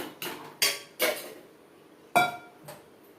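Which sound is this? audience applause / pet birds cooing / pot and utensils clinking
pot and utensils clinking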